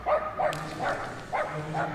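A dog barks repeatedly while running an agility competition course, five or so sharp, near woofs in an uneven rhythm with faint crowd and commentary noise beneath.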